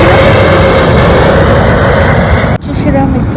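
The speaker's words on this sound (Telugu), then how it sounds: "ఇంకా ఫ్లైట్ పోతుంది." A plane flies overhead with a loud, steady broadband roar that suddenly drops off near the end, while people talk underneath.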